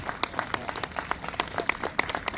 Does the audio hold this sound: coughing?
no